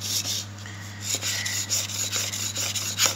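Steel blade from a wood planer being rubbed back and forth over a whetstone for a fine edge, a close, steady series of gritty rasping strokes over a constant low electrical hum.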